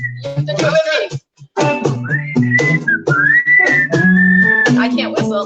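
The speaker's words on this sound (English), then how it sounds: "Lots of whistling." Live whistling along to a slow pop song at a concert, with a melodic tune whistled loud and close, carrying sustained phrases and glides over the music.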